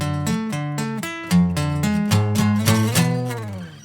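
Electric guitar plays a one-time turnaround riff at full tempo, a tight run of palm-muted chugs and sharp harmonic-rich notes in quick rhythmic bursts, close and loud with no talking.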